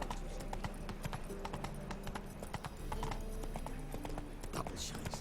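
A horse galloping in The Witcher 3 video game: quick, continuous hoof clatter in a steady rhythm, moderately close and quiet, mixed with game ambience.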